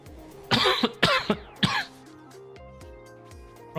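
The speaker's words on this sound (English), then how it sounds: "I'm sure it'll be fine, just leaving a cough unchecked for several months." A person coughs several times in close, sharp bursts, with a throat-clearing rasp, over quiet background music from a raid in a video game.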